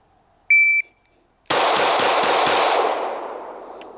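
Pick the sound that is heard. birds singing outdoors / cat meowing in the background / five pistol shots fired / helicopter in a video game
five pistol shots fired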